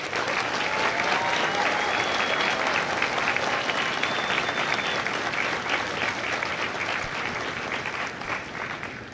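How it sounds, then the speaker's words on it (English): A crowd at a Marine Corps recruit graduation ceremony for Golf Company applauds the company staff with steady, dense clapping that holds loud and even for the whole stretch, then eases slightly near the end. "please join me in a round of applause for the company staff of Company G"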